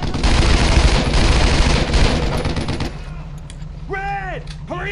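Dense, continuous gunfire with overlapping bursts in the World War II shooter game Brothers in Arms: Road to Hill 30, loud for about three seconds. It then cuts out, leaving a low hum while a voice shouts briefly.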